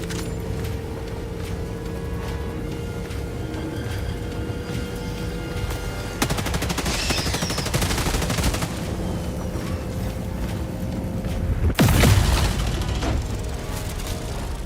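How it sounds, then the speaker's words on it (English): A laser weapon in Helldivers 2 fires with a mechanical crackle, sustained bursts of gunfire over a dense, noisy battle backdrop with a sharper blast near the end. "So this laser thing sure sounds like a regular mechanical gun"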